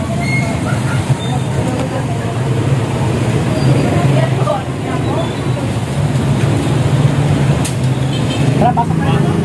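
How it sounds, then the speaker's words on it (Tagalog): Steady road traffic on a rainy day, with a continuous low rumble of passing cars and buses on wet pavement that stays loud and close for the whole stretch, with no voices. "Na-traffic ngayon kasi nga maulan."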